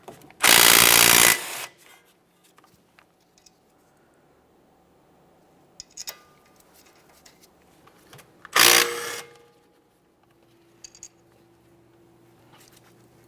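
Power tool spinning out the brake caliper slider mounting bolt on a 2014-2018 Mazda 3 during front brake work, two loud short whirring bursts several seconds apart with faint clinks and handling noises between.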